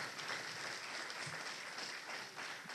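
Faint, steady applause from an audience at a lecture, a soft continuous patter heard from a distance.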